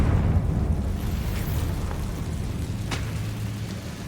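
A Confringo fire spell from the Hogwarts Legacy video game goes off as a booming blast that fades into a rough, rumbling crackle, with a few sharp pops breaking through.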